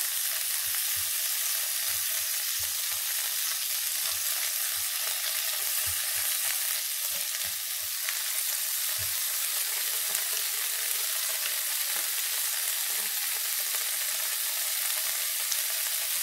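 Sausages frying in a pan with sweet peppers, a steady broad sizzle running throughout with occasional soft knocks of stirring, close and alone without talk.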